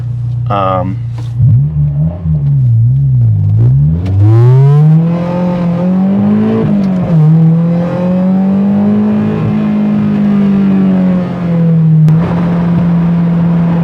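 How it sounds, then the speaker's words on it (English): A right-hand-drive JDM Honda S2000 with a Skunk2 Mega Power exhaust revs up and down, its exhaust rising and falling in pitch before settling into a steady highway drone, with a voice briefly audible. "Let's get the revs a little bit higher. I want to see how this thing sounds."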